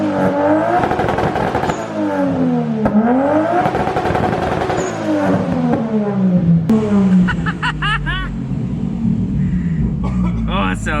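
A turbocharged 2JZ-GTE engine in a Lexus GS300 sedan revs hard several times, loud and close, with rising and falling sweeps and a deep rumble, as people talk over the last few seconds.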